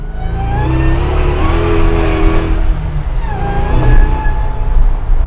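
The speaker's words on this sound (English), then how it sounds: "the whine that you get from the blower" A 745 hp supercharged Chevy C10 engine revs hard and loud up close, a high blower whine rising and falling over the deep roar as it accelerates.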